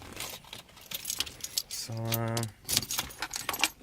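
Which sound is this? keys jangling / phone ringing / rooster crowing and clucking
keys jangling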